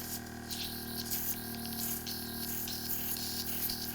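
A CD30 spray gun sprays out water in a steady hiss that runs continuously over a low mechanical hum, pulsing slightly in bursts throughout.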